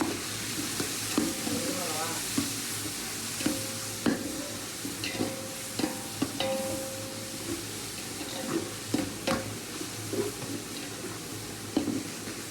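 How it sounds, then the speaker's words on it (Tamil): Tomato sautés in a pan for a whole-rabbit dum biryani, giving a soft continuous sizzle with regular spatula taps and stirring knocks every second or so, fairly quiet and without talk. "தக்காளி அதில் போட்டு நல்லா வதக்கிடலாம்."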